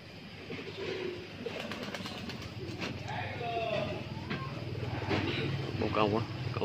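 Pigeons coo repeatedly at a busy outdoor eatery in Vietnam, soft throaty calls rising and falling under steady crowd chatter and background bustle.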